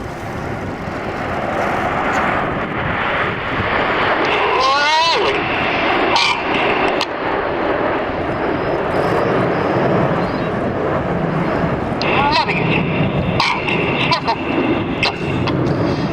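Red Arrows BAE Hawk jets passing overhead at an Old Warden air show, a loud continuous jet roar filling the scene with a rising and falling whine as the aircraft cross, an announcer's voice mixed in.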